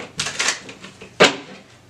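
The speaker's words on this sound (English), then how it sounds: "One more shuffle." Tarot cards shuffled by hand in a few quick, close riffling bursts, ending with one sharp snap of the deck.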